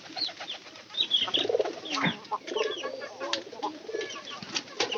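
Loft pigeons coo around a mismatched pair, their throaty, overlapping calls repeating in uneven bursts close by, with scattered brighter chirps mixed in.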